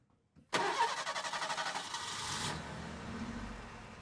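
A car engine cranking and starting in the Granny video game, a rapid rhythmic cranking that catches and settles into a low steady idle, clear and close.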